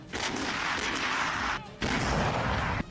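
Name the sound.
Russian artillery cannon firing shells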